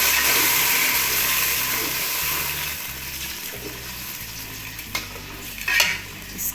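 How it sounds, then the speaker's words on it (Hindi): A cup of water is added to small pieces of jaggery in a hot pan for a syrup, giving a steady sizzle and bubbling with light stirring, then a few scrapes and clinks near the end. "एक कप पानी ऐड कर रहे हैं।"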